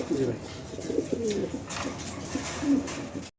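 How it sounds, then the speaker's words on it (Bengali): Fancy pigeons cooing at a seller's place, several soft, close, throaty coos in a row with voices murmuring in the background. "এখানে সিঙ্গেল সিঙ্গেল আমরা বেশ কিছু কবুতর দেখাচ্ছি"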